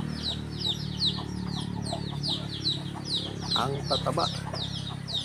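Many chickens cluck and chatter continuously nearby on a countryside backyard farm, with a brief spoken remark over the flock.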